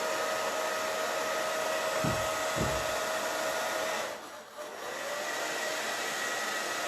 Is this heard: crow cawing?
no